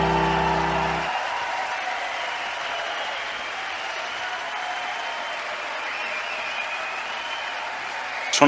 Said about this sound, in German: Ja, der Jubel.